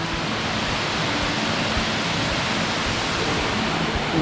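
Arikkal waterfall roars in a steady, dense wash of falling and flowing water, loud and close, unbroken throughout with no voices.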